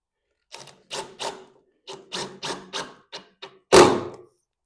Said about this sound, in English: simply screw those like that